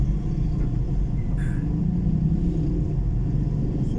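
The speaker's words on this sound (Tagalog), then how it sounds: "Nagta-traffic na kasi first day sa pasukan." Morning traffic in Kalibo, Aklan on the first day of school, a continuous low rumble of engines close by with a faint short horn-like blip midway.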